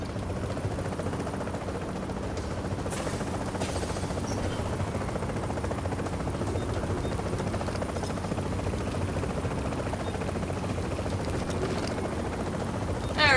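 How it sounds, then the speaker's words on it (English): A helicopter in the video game The Division thrums steadily with a loud, continuous rotor buzz that holds through the whole stretch, with faint scattered game noises underneath. "Oh no, it's a chopper instead."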